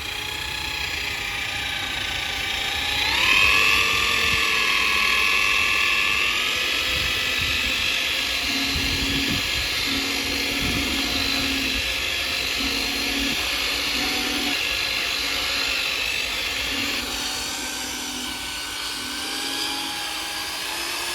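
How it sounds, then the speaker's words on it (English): An electric paddle mixer drones with steady motorized whirring for about twenty seconds, mixing wall insulation adhesive, with a brief rise in pitch early on and faint rhythmic knocking underneath. "gone for an electric mixer because there is so much to mix"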